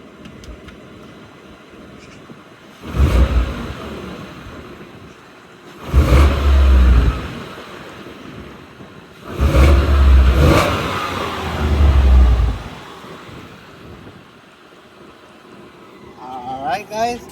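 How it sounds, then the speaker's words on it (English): A Ford Coyote 5.0 V8 on its stock exhaust revs in four loud bursts, each a deep throaty swell held for a second or two before falling back to a lower idle between them. "I gave you guys a cold start and some revs."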